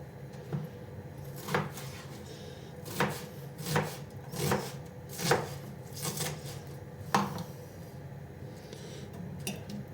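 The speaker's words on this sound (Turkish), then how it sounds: "şişeye girecek şekilde şöyle doğrarsak yeterli olacaktır" A knife chops food on a board in a series of sharp, irregular thuds, close up, with no talking.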